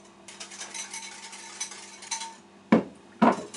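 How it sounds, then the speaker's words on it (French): A spoon whisks sugar into milk in a bowl for lemon yogurt, a brisk scraping stir at close range that ends in two louder knocks against the container. "On mélange frénétiquement."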